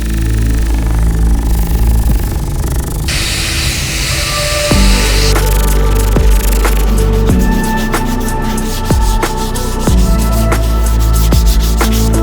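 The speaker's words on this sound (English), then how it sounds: "So now we've got to get into finish sanding and polishing" A vintage cricket bat being finish-sanded during restoration: steady, close abrasive rubbing strokes in bursts, with a few sharper knocks and a faint tonal hum underneath.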